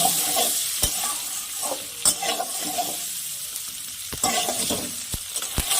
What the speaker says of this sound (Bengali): দিয়ে এবার ডিমগুলোকে আমি লাল করে ভেজে নেব।